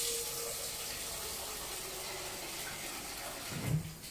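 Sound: tap water filling a pot

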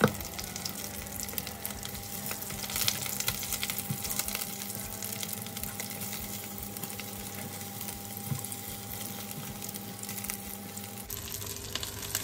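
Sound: frying schnitzel on both sides

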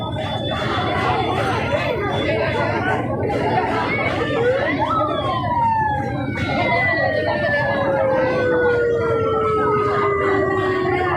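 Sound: ambulance siren passing

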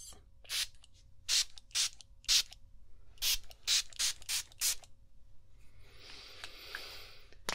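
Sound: spraying a scented pillow spray around a pillow

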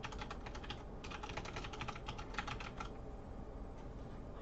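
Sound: fast typing on a computer keyboard

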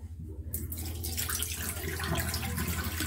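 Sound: water running from tap while rinsing a cleaning rag

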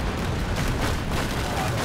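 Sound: ship cannon shot in Skull and Bones video game

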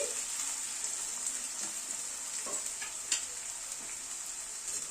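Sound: onions frying in a pan over medium gas flame

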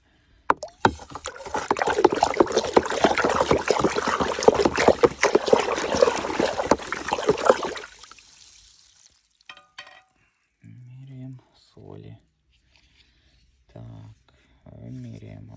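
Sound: stirring a fertilizer solution of potassium monophosphate in water

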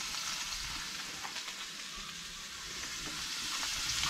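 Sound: eggplants frying in an aluminium pan

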